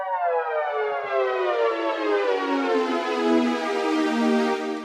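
A buzzy Yamaha Montage/MODX synthesizer tone glides steadily downward in pitch as its filter cutoff opens, growing brighter and fuller, sustained and loud without pause.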